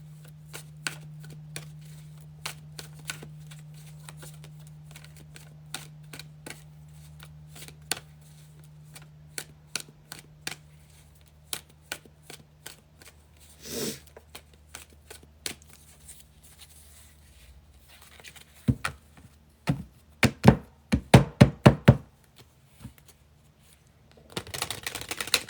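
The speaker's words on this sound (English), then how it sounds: "I'm going to continue to shuffle" Tarot cards are shuffled by hand in a quiet room, producing soft, irregular riffling and tapping clicks that grow into louder, denser bursts of shuffling near the end, with a low hum early on.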